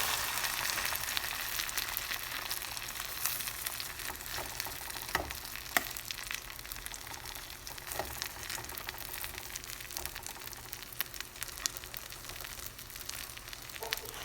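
Egg-coated cheese bread frying in a pan, a soft, steady sizzle and crackle with a few faint clicks, fairly quiet and even throughout.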